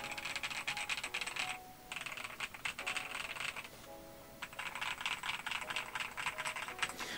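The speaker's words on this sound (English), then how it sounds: "this keyboard sounds really great out of the box" Steady, fast typing on an Aula Wind F98 mechanical keyboard, heard up close with dense clacky keystrokes, a short pause partway through and another slower stretch before the typing resumes, with no voices.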